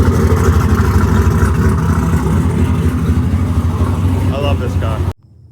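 Pro drift car on a street at a cars-and-coffee meet, engine running loud and close with a deep rumbling, pulsing burble that holds steady before cutting off abruptly near the end.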